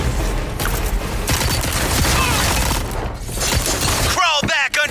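Rapid gunfire and shattering impacts in the Deadpool VR video game, loud and continuous, with game effects and a voice mixed in.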